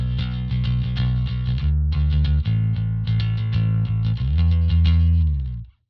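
Clean bass guitar played through an Ashdown ABM amp emulation plugin, a steady run of sustained low notes with bright string attack, loud and close, ending with a short decay.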